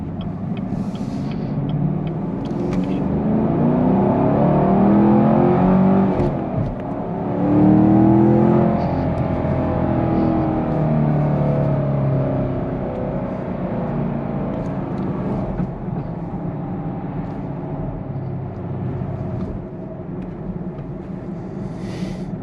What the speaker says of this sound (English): just listen to that engine vroom, when you downshift and stuff